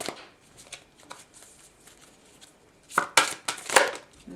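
An oracle card deck is shuffled with soft riffling and flicks, then a burst of louder card slaps and a drawn card near the end, close and alone.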